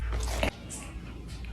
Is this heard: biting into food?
yes